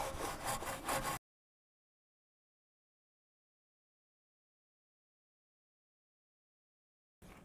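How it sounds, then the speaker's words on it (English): A detail brush scrubs briskly inside the barrels of a car's wheels in a roughly one-second burst of dense, close rubbing. Near-silence follows, then a faint return of the brushing at the very end. "I get my easy detail brush and I just start going in the barrels"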